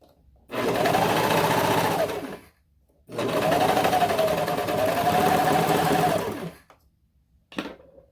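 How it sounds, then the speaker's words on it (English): A serger sewing machine stitches fabric for a doll leotard in two loud, even runs of about one and three seconds, separated by a pause and followed by a short click. "we're going to sew a little past the starting point"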